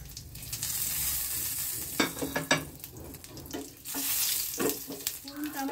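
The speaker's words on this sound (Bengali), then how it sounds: "এখানে ফোড়নে আমি দিচ্ছি একটা তেজপাতা, একটা শুকনো লঙ্কা, 2 টুকরো দারচিনি, 2টো লবঙ্গ, 2টো এলাচ আর একটু সাদা জিরে।" Bay leaf, dried red chilli, cinnamon, cloves, cardamom and cumin seeds frying in hot oil for a prawn korma tempering, a steady close sizzle broken by a few sharp crackles and stirring clatter.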